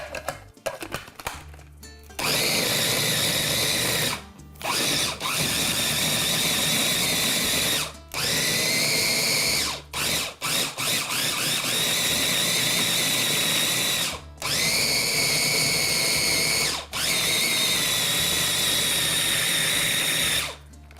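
An electric mixer whirs through a chicken meatloaf mixture in a home kitchen, running in several loud steady bursts separated by brief pauses.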